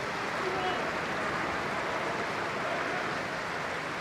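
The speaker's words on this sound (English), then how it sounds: "The Walsall fans are applauding away to our left" Away fans applauding at a Southampton versus Walsall FA Cup football match, a steady, distant wash of clapping that fills the whole stretch without a break.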